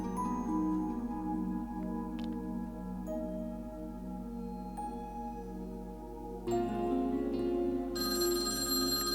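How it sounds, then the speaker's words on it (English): A telephone rings in a quiet night scene, its steady bell-like tones sounding over soft ambient tones with a sudden brighter shift near the end, no voices. "the silence was broken by the sound of the phone ringing"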